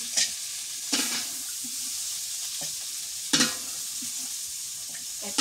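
Large prawns frying red in oil in a pan, an even crackling sizzle punctuated by several bursts of spatula stirring and scraping at irregular intervals.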